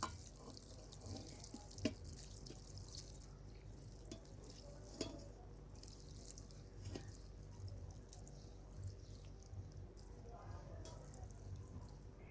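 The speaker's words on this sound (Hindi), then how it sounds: "अब जो यखनी हमने रखी हुई थी ना वो सारी ऊपर डाल देनी है।" Mutton yakhni stock is spooned over pulao rice in a pot, a faint steady trickle and splashing of liquid with a few soft clinks, recorded at low volume.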